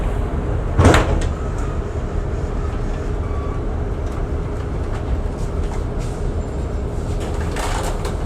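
The doors of a 2021 Nova LFS HEV hybrid city bus close with a single loud thump near the start, then the interior hum and faint rattles carry on steadily throughout.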